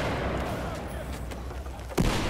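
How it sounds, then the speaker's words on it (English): Grenade blasts in Battlefield 4 on Operation Locker: a dense, rumbling battle bed of distant booms and gunfire, capped by one sharp, louder burst near the end, with a voice talking over the din. "they throwing all kinds of grenades and shit"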